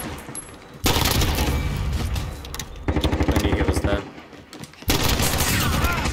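An automatic rifle in Call of Duty Modern Warfare fires in several rapid, loud bursts, the rate quick at first and then steadier, with brief pauses between strings of shots.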